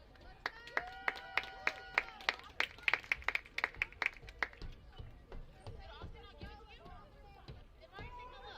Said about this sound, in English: let's give a round of applause to the Lady Barons as they come back for the second half